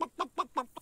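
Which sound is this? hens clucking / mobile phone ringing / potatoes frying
hens clucking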